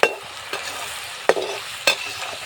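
Shredded potatoes fry in a kadai with curry leaves. A soft sizzle runs underneath, broken by a few sharp stirring scrapes about half a second apart.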